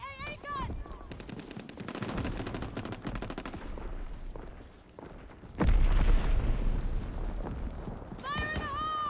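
Rapid anti-aircraft gunfire and explosions in a Call of Duty WW2 battle against Stuka dive bombers, with sustained loud bursts, a heavy boom midway and shouted voices over the din.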